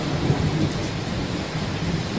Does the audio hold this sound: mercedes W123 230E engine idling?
no